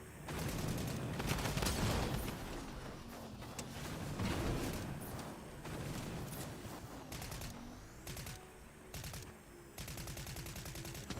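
Rapid gunfire from a drum gun in a video game, dense bursts of automatic shots running nearly the whole time at steady loudness, with brief gaps between volleys.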